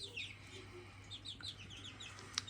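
Growing chicks in a small bin, soft high peeping and clucking calls repeating close by over a low steady hum.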